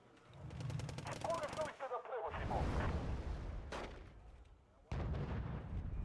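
Mortar fire in a video game, a series of heavy booming shots and rumbling blasts in close succession, loud and dense, with a player's voice talking over the battle.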